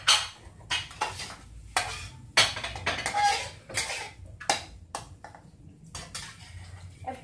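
A utensil scrapes and clinks against a pan while egg is stirred and cooked, with repeated metallic taps and scraping in an irregular rhythm over faint background noise, and no voices.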